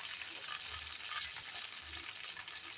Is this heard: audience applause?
no